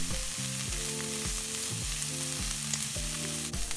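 Steady oil sizzle and crackle from mushrooms frying in a pan, close and continuous, with a low rhythmic hum running underneath.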